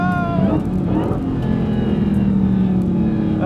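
A race car on cold tires launches hard and accelerates, its engine rising in a loud, close rev with a falling gear-shift pitch, then holding a steady drone before climbing again.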